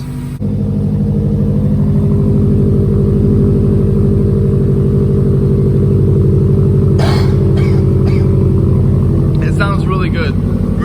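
Car fitted with a Cobb Stage 1+ axle-back exhaust, a loud, deep rumbling engine drone running continuously and rising at times, with brief voices over it.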